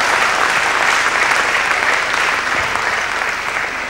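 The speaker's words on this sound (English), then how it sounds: "Good round of applause from the crowd." Spectators at a badminton final in the Czech International applaud after a rally, a steady, full round of clapping that tapers slightly near the end.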